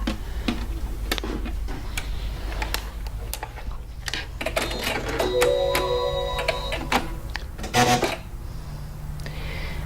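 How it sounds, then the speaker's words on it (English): A Janome 15000 computerized sewing machine powering up: a run of mechanical clicks and ticks, then a short series of clear electronic beep tones, all close and moderately quiet over a steady low hum. "I'm going to maybe turn the machine on because you will get a message on the screen when you do that"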